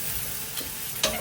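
Chicken and tomato frying in a pan with a steady soft sizzle, broken by a couple of brief stirring scrapes, the last one sharper and louder near the end.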